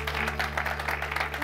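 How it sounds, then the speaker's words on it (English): Congregation clapping in praise during a Sunday school church service, a rhythmic, pulsing burst of many hands heard over a steady low hum. "Let's give Jesus a hand clap of praise this morning"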